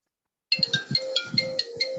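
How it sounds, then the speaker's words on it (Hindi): A mobile phone rings during a classroom lecture with a bright, chirpy repeating melodic ringtone that starts suddenly after a moment of silence and keeps sounding, fairly quiet and alone. "किसका फोन बज रहा है बे?"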